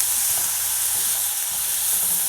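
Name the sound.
soaked lentils being lightly sautéed in pan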